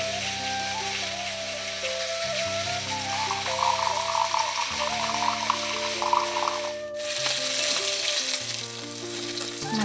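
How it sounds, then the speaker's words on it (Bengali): Fish heads frying hard in hot oil, a steady dense sizzle that stays loud and close throughout, with a brief dip near the end and faint stirring clinks. "মাছের মুড়োগুলোকে কড়া করে ভেজে নিয়েছি।"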